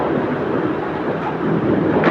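A dull, steady rumble of Diwali firecrackers and fireworks bursting outside, a muffled, continuous wash of noise with no clear separate bangs and no talk.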